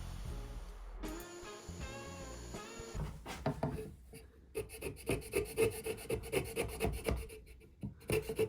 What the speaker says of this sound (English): I then had to clean the rest up with a chisel,